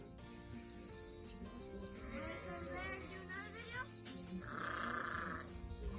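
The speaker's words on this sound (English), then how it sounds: "We have sheep." Sheep bleating inside a big winter barn full of ewes, several wavering calls overlapping near and at middle distance, with a voice and other talk mixed in.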